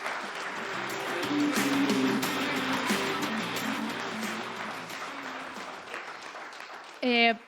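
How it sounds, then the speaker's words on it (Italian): Studio audience applauding in memory of Gianluca Vialli on an Italian sports broadcast, steady clapping over a low hum that fades toward the end, followed by a brief loud tonal burst. "direi di fare un applauso in questo caso"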